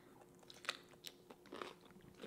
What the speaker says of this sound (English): It's a nice crunch.